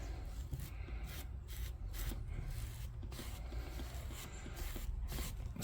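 A pad is rubbed and scraped as ceramic graphene paste wax is spread across it, making soft, repeated brushing strokes in an uneven rhythm. The sound is quiet and close, with no voices.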